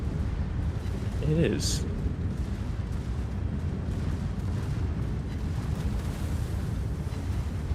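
Warship secondary guns firing repeatedly in a naval battle video game, a steady dense rumble of distant cannon fire with a brief whistle-like burst early on, while a person speaks briefly over it.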